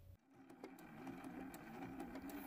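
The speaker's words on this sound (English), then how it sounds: "we're going to do some free motion stitching" A sewing machine runs steadily for free motion stitching on a quilt with raw edge applique, a faint continuous whirring hum with light rhythmic clicks at close range.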